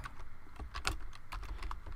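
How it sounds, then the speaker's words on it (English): Fingers tap quickly and steadily on a computer keyboard while typing HTML, close by and moderately quiet, with no talking. "I can type something in here"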